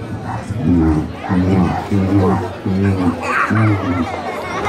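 At a medieval festival, a voice mimics a dog with five evenly spaced barking sounds, loud and close.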